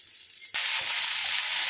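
Onion and green chili fry in a pan. After a quiet start, an abrupt loud sizzle bursts in and then holds steady and bright.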